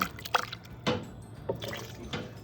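Water swishes and sloshes around inside a pot being rinsed out by hand, with several uneven splashes and pours close by, alone without talk.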